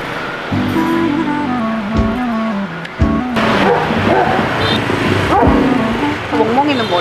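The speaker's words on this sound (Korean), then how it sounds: "멍멍이는 뭐지?" A dog barks and yips several times nearby, in short irregular bursts mixed with whimpers, while people talk over it.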